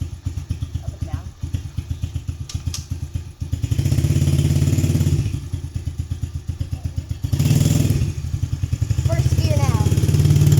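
A new dirt bike engine chugs with a steady, rapid low throb, surging louder twice as it is revved and ridden, up close, with some clatter.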